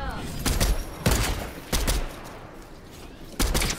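Bursts of gunfire in a shooting video game, four short loud volleys of rapid shots separated by quieter gaps, heard alone without talk.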